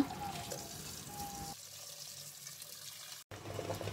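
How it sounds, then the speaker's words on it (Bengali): Potatoes and eggs being rinsed under a running kitchen tap, with a steady close stream of water that changes tone partway through and cuts off briefly near the end. "ডিম চপের জন্য আমি আলু আর ডিমগুলো আগে ধুয়ে নিচ্ছি"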